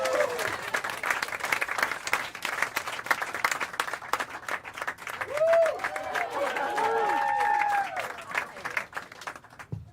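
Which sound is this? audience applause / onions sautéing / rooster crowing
audience applause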